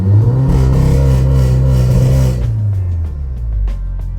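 Volkswagen Golf 7R engine held at high revs for launch control, a loud, close, steady drone that eases and drops in pitch toward the end, with light clatter.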